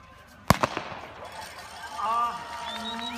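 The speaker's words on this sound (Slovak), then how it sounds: "Takže čakáme na výstrel." Starting gun fires once at the start of a cross-country ski race, a single loud sharp crack followed by a few quick echoing reports and outdoor crowd and course ambience.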